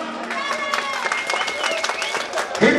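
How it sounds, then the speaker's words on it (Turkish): Live audience applause at a concert, a dense continuous patter of many hands clapping with crowd noise, steady and fairly close. "Alkışlar!"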